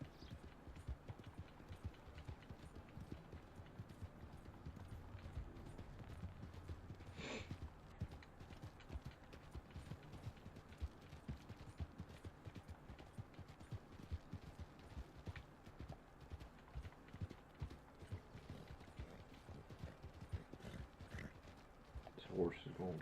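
A horse's hooves clip-clop in a steady walking rhythm, faint and continuous, under voices talking.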